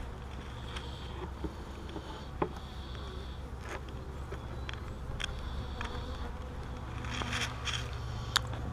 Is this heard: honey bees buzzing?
yes